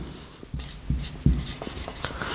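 Someone handwrites the English word "verb" in a few quick, close scratchy strokes over about two seconds, with no one talking.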